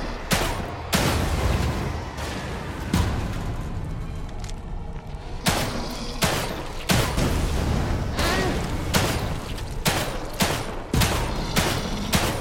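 Rapid, loud gunfire in The Evil Within 2, a dense run of close shots cracking one after another over about twelve seconds, with a short lull in the middle before the shooting resumes.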